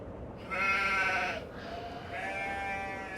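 Sheep bleat twice in a quiet rural village setting, each call a loud, wavering cry close by, with a short pause between them and faint outdoor ambience underneath.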